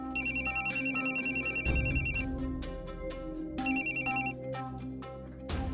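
A landline telephone in a home rings in two bursts of rapid electronic trills, a long one at the start and a shorter one a few seconds later, with faint room sounds between.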